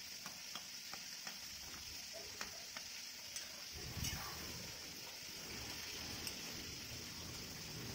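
Colocasia and fish-head dal gets stirred and mixed in a cooking pot: a faint, steady sizzle with light scraping clicks, then a soft thicker swirl partway through, heard close and quiet.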